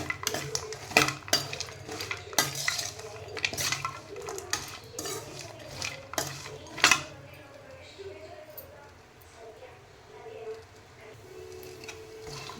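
A spoon stirs and scrapes ingredients roasting in ghee in a pan while making protein-rich antina unde, with clinks and scrapes in the first half that grow quieter afterward, and a voice talking over it.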